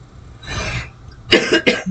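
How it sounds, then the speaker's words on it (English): A few harsh coughs close to the mic: one short cough, a pause, then two quick coughs in a row. "I'm sorry for the coughing, by the way."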